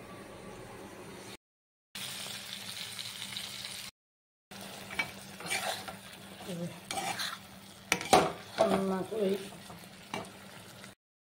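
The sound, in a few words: frying teasel gourd and pointed gourd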